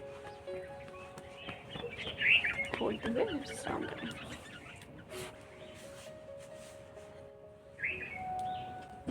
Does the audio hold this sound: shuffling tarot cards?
no